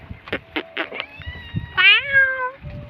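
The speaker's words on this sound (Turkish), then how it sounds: "Kedi gidiyor bak kedi gidiyor." A cat meows several times up close, a few short mews followed by a longer drawn-out meow, with faint background noise and a voice nearby.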